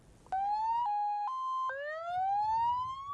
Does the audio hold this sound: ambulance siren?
yes